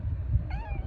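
A pet cat gives a single short, clear meow near the microphone in the second half, over a faint low rumble.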